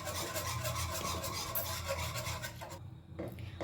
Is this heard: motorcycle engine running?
no